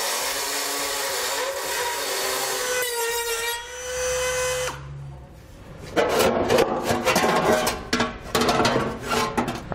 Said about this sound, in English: we're going to use a Dremel tool to remove this